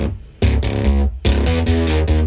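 A distorted synth bass treated with a compressor, OTT, Camel Crusher and sidechain ducking from the kick plays two loud, thick, buzzing phrases, cut by a brief dip between them.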